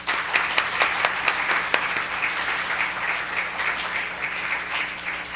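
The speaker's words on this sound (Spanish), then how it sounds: "Brindémosle un aplauso, por favor." Audience applause at an academic talk on aesthetics of the female body, dense steady clapping from a crowd in a room, sustained throughout with a few sharper individual claps.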